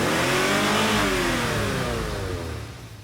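A car engine revving loudly up close, the roar sweeping upward and then easing off as it fades toward the end.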